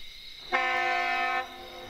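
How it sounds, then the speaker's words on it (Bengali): A train horn at a deserted night station, a single steady sustained blast of almost a second, moderately loud over a quiet background. "একটা হর্ন দিয়ে ট্রেন চলতে শুরু করল।"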